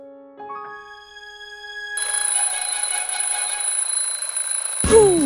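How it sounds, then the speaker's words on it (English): An alarm clock starts with a few soft tones, then breaks into a loud, steady, shrill ring that carries on for several seconds before a sharp sweeping noise cuts in at the end. "The snake is gonna go bananas when he hears this alarm clock."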